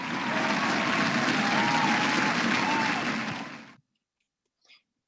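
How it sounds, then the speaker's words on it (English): An awards-celebration audience gives a sustained round of applause, dense steady clapping that fades out near the end, followed by a brief faint sound after the silence. "Please join me in a round of applause for these ladies."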